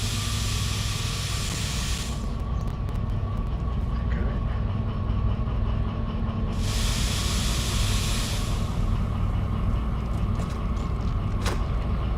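Train locomotive in the Derail Valley simulator rolls with a steady loud mechanical rumble and hiss, while bursts of high braking or steam hiss rise and fade twice, plus a sharp click near the end.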